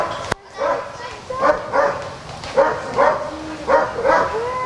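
Rescued Doberman giving repeated whimpers and short yelping barks in a regular rhythm, fairly close, with a voice talking faintly in the background.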